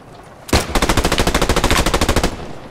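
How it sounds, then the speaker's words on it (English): Machine gun fire in the World War II shooter Post Scriptum, set in close-quarters street fighting at Arnhem: one sharp loud burst followed by a long, steady rapid stream of shots for about two seconds, close by, with no talking. "Machine gun."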